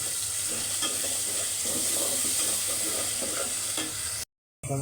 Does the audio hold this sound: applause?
no